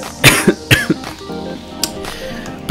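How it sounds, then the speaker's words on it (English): A sick person coughs in a few sharp, close bursts early on, followed by a faint clink and quiet background sounds. "I'm sick of this cough"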